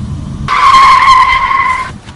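A car's tires shriek in a loud, sharp skid lasting about a second and a half, from a car that then hits another car from behind, followed by a quieter rumble.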